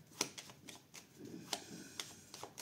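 Playing cards are handled and laid out on a table for a horoscope reading, giving a few soft, sharp slaps and flicks spaced irregularly, quiet and close, with no talk.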